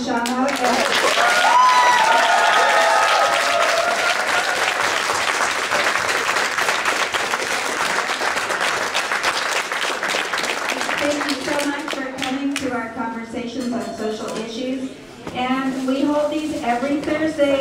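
An audience applauds a speaker at a Fight for $15 talk in a library room in Seattle, loud and dense clapping at first, thinning out as voices and talk come in over the last several seconds.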